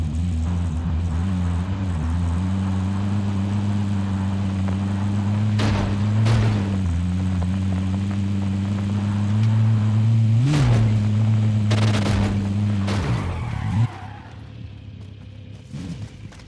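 A car driven in a shooter video game holds a steady low engine drone with brief revving swells, while a few sharp bangs and clatters cut in before the engine fades near the end.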